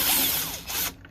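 Power tool whirring as 10 millimeter bolts are removed from a Gen 1 Mazdaspeed 3 GT headlight housing, a loud close burst of spinning with changing pitch lasting about a second.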